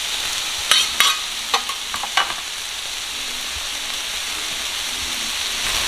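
Shaved steak spread out on a hot griddle for a Philly cheese steak gives off a steady, close sizzle. A few sharp scrapes and clicks come early on, and there is no talk.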